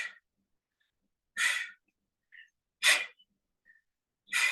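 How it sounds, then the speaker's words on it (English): Heavy, noisy breaths from a person exercising during a fitness workout, four sharp forceful exhalations spaced about a second and a half apart, close and loud against silence. "Hear my noisy breathing?"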